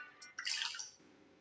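Water trickling and splashing into an inflatable float in the video game Last Kiss Before Summer, a brief watery rush of bubbling and dripping that swells, holds, then fades out alone.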